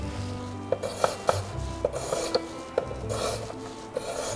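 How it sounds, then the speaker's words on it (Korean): Repeated soft scraping and rasping strokes as seeds are scraped out of a peeled cucumber, with a few sharper ticks of a utensil, close by and fairly quiet. "오이는 이렇게 속은 빼주는 게 좋아요"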